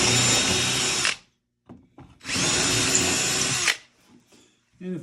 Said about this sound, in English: And we'll drill through.